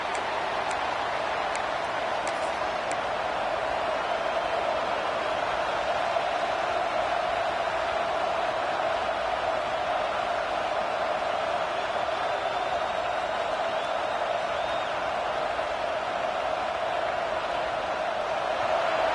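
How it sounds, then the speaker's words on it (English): Stadium crowd at a football game roars as a steady, dense wash of noise that stays loud and unbroken throughout, with a few faint ticks near the start. "listen to this crowd noise. This stadium is vibrating"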